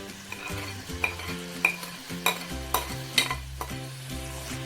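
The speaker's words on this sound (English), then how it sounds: "We're going to let that fry until the onions soften." Sliced onions and chili fry in oil with salt in a pan, giving a soft continuous sizzle broken by a few sharp stirring clicks, with music underneath.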